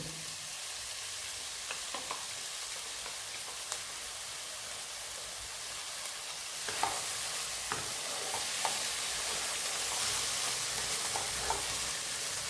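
A corn soup paste fries in a pan, sizzling steadily while a utensil scrapes and stirs through it in occasional close, crisp strokes.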